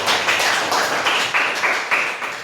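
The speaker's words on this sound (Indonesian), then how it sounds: "Oke, tepuk tangan buat mereka berdua." A classroom group claps in rhythmic bursts, loud and close, about seven evenly spaced pulses of hand claps in a row.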